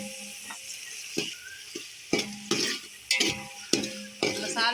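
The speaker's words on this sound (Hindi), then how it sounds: "टमाटर, हरी मिर्च, इन सब चीज़ों को हम अच्छी तरह से भून लेंगे।" Tomatoes, green chillies and tamarind fry in a pan for a tikka pulao, with a soft sizzle under a series of sharp, irregular stirring scrapes and clinks of a utensil against the pot.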